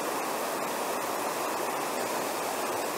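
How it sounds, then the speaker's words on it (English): A waterfall roars in light rain with mist rising off it, a dense, steady broadband rush filling the whole clip, close and unbroken, with no voices. "There's some mist coming off of the waterfall as well as it's raining a little bit."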